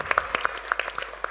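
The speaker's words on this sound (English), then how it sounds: "If you could give them a round of applause, please." An audience at a panel discussion at an expo claps for the panelists, a brief, fairly close burst of dense applause.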